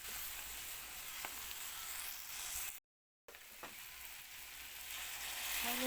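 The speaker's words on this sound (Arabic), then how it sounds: "نفضل بقى نقلب اللحمة بتاعتنا عشان تشرب بقى من التوابل بتاعتنا" Spiced meat frying and being stirred in a pot for a slow-cooked meat and dough tagine, a dense, loud sizzle that runs steadily throughout, broken by one brief full dropout midway.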